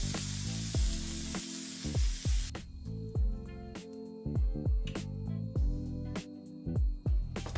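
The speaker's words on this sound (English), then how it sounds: "toast the bread in a pan on both sides until crispy" Bread crisping in a cast iron pan, a soft sizzle beneath repeated sharp taps and scrapes recurring every half second or so, the hiss thinning out after the first few seconds.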